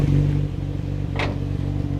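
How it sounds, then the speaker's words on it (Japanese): A Nissan BNR34 Skyline GT-R with a NISMO S1 engine and NISMO cams idles close by. The low, lumpy, burbling exhaust note runs steady and loud for about two seconds, with one brief sharper rattle partway through. "アイドリングの音がチューニングカーっぽくていいですよね"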